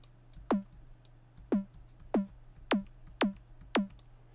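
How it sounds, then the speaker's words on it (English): A short synthesized click tuned to sit at the start of a snare drum repeats six times at a steady pace, each a sharp, clean tick over a faint steady hum. "So that just creates a tiny little click."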